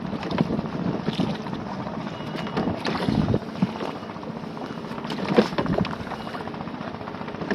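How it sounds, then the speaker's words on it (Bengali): A small boat motors out on the open sea off Patenga, with a steady engine drone, wind buffeting and water rushing around the hull throughout, close and continuous. "আর চালাচ্ছি নৌকা নৌকাতে করে ঘুরতেছি"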